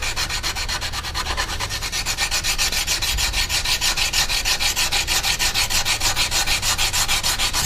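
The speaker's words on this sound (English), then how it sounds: "I'm not really trying to sand this guy to a finish. I'm trying to get rid of all of these pits first." Sandpaper rubbing hard against a rusty, pitted steel knife blade in a fast, even back-and-forth rhythm, loud and close with no talking.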